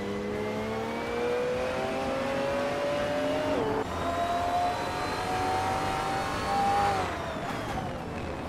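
In a racing video game, a Ferrari 575M Maranello engine revs hard and steadily, its pitch climbing through the gears with brief dips at shifts, close and continuous, with other cars whirring behind it.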